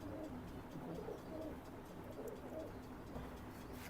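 Soft, low cooing of imported teddy pigeons repeats throughout, murmuring steadily at a quiet, slightly distant level.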